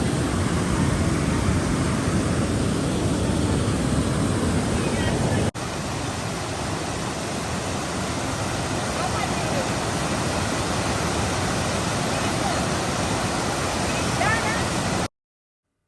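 Steady broadband rush of a waterfall in a green outdoor spot, loud and continuous throughout, with a slight drop in level partway before ending abruptly.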